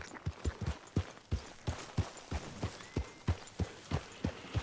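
Horse hooves clip-clopping in a western video game, a steady trotting rhythm of sharp, close hoof strikes repeating about every quarter second over a faint background, with no talk.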